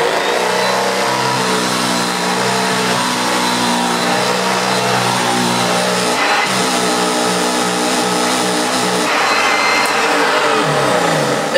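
A refurbished Hoover Junior 1346a upright vacuum cleaner runs steadily with a loud, continuous motor whine and hum, holding an even level throughout with brief shifts in tone.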